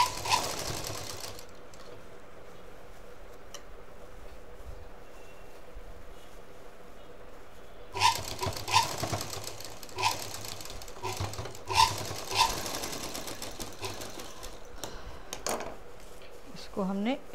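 A sewing machine stitches fabric pieces together for a round multipurpose fabric box, starting with a brief whir, then after a quiet pause running in short bursts with clicks and handling noises.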